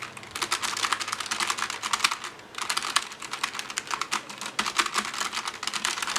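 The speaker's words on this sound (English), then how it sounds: "Oh, let's get into the typing." Steady run of close key clicks from a Logitech G915 TKL tactile gaming keyboard, fast continuous typing that stays fairly soft, with one brief pause midway before the keystrokes resume.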